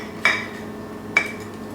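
A knife cuts through a crusty two-ingredient chocolate cake, giving two brief, bright clinks about a second apart against a quiet background.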